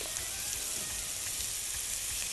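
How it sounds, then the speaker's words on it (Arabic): Garlic and peppers frying in a pan for a grilled tomato salad, a continuous close hiss and crackle of hot oil, steady and even with no talk. "انا عايزه احمر الثوم مع الفلفل بالشكل ده كده"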